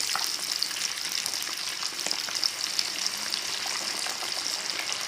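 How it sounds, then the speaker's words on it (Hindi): Gram-flour coated fish pieces frying in hot oil, a dense continuous bubbling sizzle heard close up, steady and loud with no talk. "अब भाई करने लगे हैं फ़िश को फ्राई, तो चले डालते हैं।"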